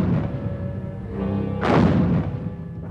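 A World War I field gun fires at enemy trenches, one heavy booming blast with a low rumbling tail, close and loud, alone without voices.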